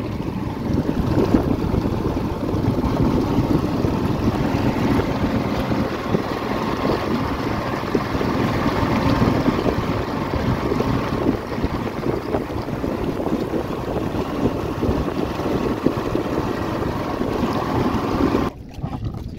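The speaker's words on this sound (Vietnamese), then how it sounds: "Hôm nay sóng và gió to hơn hôm qua nhiều." Strong, steady wind roars across the microphone from a boat on flood water near the Cambodian border, with waves washing beneath it. The noise stays loud and continuous with no voices.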